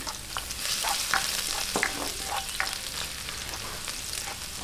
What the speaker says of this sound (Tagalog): umpisahan na po natin yung paggigisa. Lagay natin ang bawang.